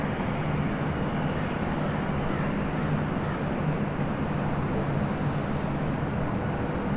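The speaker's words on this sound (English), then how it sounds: "have a Korean Air Cargo 777 about to depart on the south side on the 25s" A Korean Air Cargo Boeing 777 departing on LAX's south runways: a steady, broad jet roar held at a distance without letting up, with no speech.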